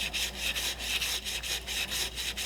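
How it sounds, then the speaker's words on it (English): Emery cloth scrubbed by hand against the painted inner surface of a stamped metal fan hub, a quick, even back-and-forth rasping of about a dozen strokes, close and steady, with no talking. "So I'm going to go ahead and just clean the paint off of this inside surface with a little bit of emery cloth."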